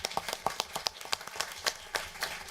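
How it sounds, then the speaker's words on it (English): An audience at a town council meeting claps in applause for a man being honoured, a brief burst of many hands clapping at close-to-mid distance. "a round of applause for Daniel"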